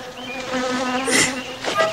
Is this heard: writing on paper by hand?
no